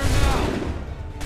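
Musket volley fired by a line of soldiers in Assassin's Creed 3 at the Concord North Bridge battle, a loud, dense burst of overlapping shots at the start that trails off into a rumbling decay.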